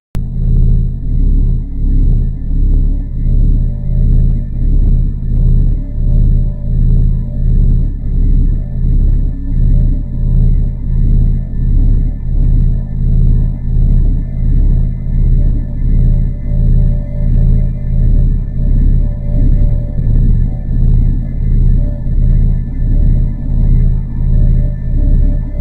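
NASA space sound recording of a star closely orbiting the black hole at the centre of the Milky Way: a loud, steady low rumble with dense rhythmic pulsing and faint high sustained tones, unbroken throughout, with no voices.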